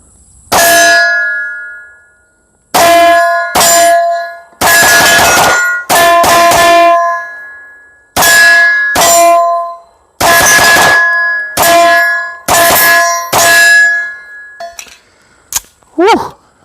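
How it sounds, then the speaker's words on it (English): A 2011-style pistol fires 124 grain rounds at steel targets, with sharp loud reports each followed by a ringing metallic clang, in irregular groups of single and double shots separated by short pauses, up close. "So again, 124 grain. We're gonna keep shooting."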